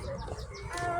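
Chickens cluck close by on a farm, short clucks repeating through about a second over steady background noise.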